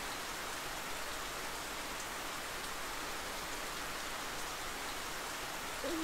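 Steady rain falling in the World End Syndrome video game, a dense, even hiss that continues unbroken throughout with no voices.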